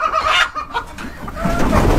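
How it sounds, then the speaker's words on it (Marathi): Hens cluck nearby on a poultry farm where they sit to lay eggs, a few loud throaty clucks followed by a rustling, shuffling din. "ही कोंबडी आता अंडी देण्यासाठी बसलेली."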